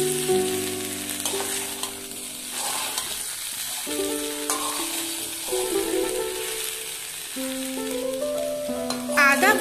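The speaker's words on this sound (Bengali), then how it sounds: "কুমড়োর সাথে 2 মিনিটের জন্য ভেজে নেব" Ginger sizzling in hot oil in a pan with potato and pumpkin pieces for a Bengali curry, a steady frying hiss with occasional stirring clatter throughout, no talk.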